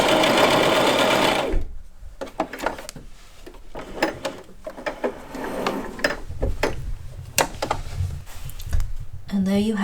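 A home sewing machine runs in bursts, a few quick stitches forward, then backstitching in reverse and forward again, with whirring runs broken by short pauses and clicks of the lever, close and clear.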